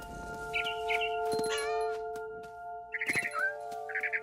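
A cat in the game What Remains of Edith Finch gives short, high meows in two bursts of several quick calls, heard over a steady music bed with brief rustling in between.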